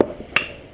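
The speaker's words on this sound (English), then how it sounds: "I get my 4-pound hammer and give it a decent whack" A 4-pound hammer strikes a rear brake part on a Ford Mondeo, giving one sharp metallic clang that rings briefly and decays, heard close up with a smaller tap just before it.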